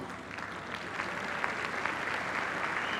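Clapping from a lecture audience on biodiversity, a dense, even patter of many hands heard from a distance at low level, holding steady throughout without any voices.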